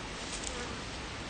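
Honey bees buzz steadily as a hive is opened and excess propolis and wax are scraped off while the colony is split, giving a faint, even drone over about a second.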